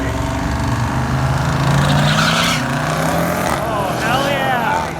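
A 1990 Mustang launches down a drag strip lane, its engine roaring loud and steady with tire squeal rising near the end, while people talk over it.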